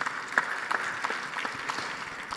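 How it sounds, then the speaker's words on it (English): Audience at a two-day conference livestream gives a round of applause, a soft, distant-sounding patter of many hands clapping steadily, with a few sharper individual claps poking through. "could we give President Macron a warm round of applause, even in absentia?"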